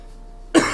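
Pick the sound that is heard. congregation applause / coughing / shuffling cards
coughing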